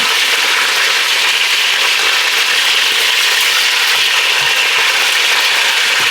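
Salted burger patties sizzle and fry in a pan after being flipped back onto their first side, a loud, steady crackle running without a break.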